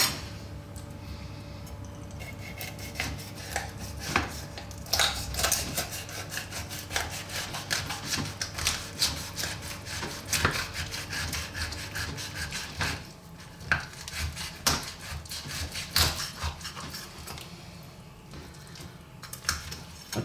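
A knife crunching and sawing through a raw chicken's backbone to butterfly it for lemon garlic roast chicken, a steady run of close, rough cutting strokes and scraping crackles over about twenty seconds.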